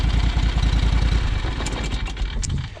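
A John Deere X585 lawn tractor engine idling while running rich, a loud, close, steady rumbling chug with fast even firing pulses that soften slightly toward the end, with no voices.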